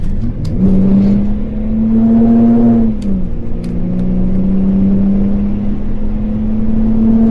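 A BMW X5 E53 with over 200,000 miles revs steadily as it accelerates, giving a loud, continuous engine drone whose pitch climbs, dips briefly around the gear change, then climbs again, with no talking.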